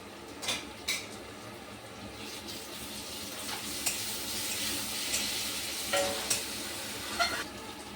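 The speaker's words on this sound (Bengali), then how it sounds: "এখন এখানে আদা রসুনের পেস্টটা দিয়ে দিলাম।" Ginger-garlic paste hits a pan of fried onions and paneer, giving a steady sizzle broken by repeated sharp scrapes and clinks of a spatula against the metal pan, close and without speech.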